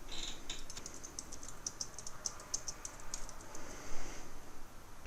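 Typing on a computer keyboard, a quick run of light, close key clicks in an irregular rhythm, fairly quiet against a faint room hiss.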